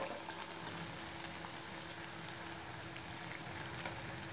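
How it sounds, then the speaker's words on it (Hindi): Curd-based snack pieces fry in hot oil over medium heat, giving a steady, fairly quiet sizzle and crackle that runs without a break and without any voices. "हम इन्हें मीडियम आंच पर ही फ्राई करेंगे"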